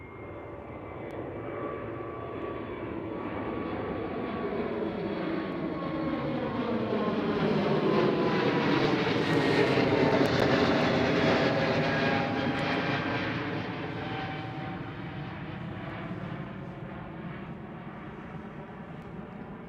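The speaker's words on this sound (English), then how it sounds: "Right there, that one is an EasyJet who has lined up" An EasyJet airliner lining up on the runway at Amsterdam Schiphol, a steady jet engine whine that swells to a peak in the middle and then fades, heard from a distance with no talk.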